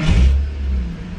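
A VU car's engine starts with a loud, low burst of revving, then settles into a steady, rumbling idle, close by with no talking.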